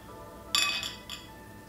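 A wine glass gives two bright clinks, a sharp ring followed by a softer second tap, close and clear against a quiet room.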